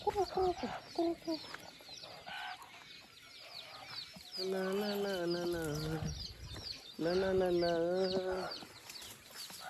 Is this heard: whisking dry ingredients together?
no